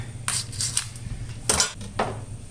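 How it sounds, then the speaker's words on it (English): A package of andouille sausage is cut open in a kitchen: a few sharp plastic crackles and knife clicks in quick bursts, close and crisp, without speech. "So let's cut this open."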